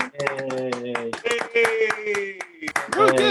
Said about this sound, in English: Let's all welcome Alice Fraser. Do some clapping and stuff.